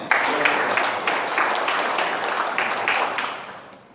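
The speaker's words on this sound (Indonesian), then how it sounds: "Tepuk tangan." An audience at a national organization congress claps in a dense, even burst of applause that holds steady and then tapers off near the end.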